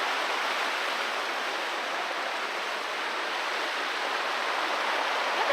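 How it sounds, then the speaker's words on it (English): A small waterfall in a wintry forest pours with a steady, unbroken rush of white noise, fairly close and constant throughout, with no voices or other sounds. "Sneaking through the forest and finding beautiful little waterfalls."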